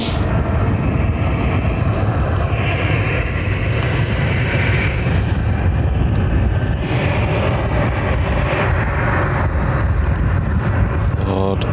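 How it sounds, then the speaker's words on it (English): An EasyJet airliner inbound from Amsterdam on approach to Lanzarote airport gives a continuous broad engine roar, steady and fairly loud throughout, with brief talking over it. "And we have EasyJet from Amsterdam on approach."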